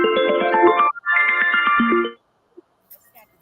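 A phone ringtone from an incoming call plays a loud, bright melodic tune for about two seconds, then cuts off into near silence broken by a few faint clicks.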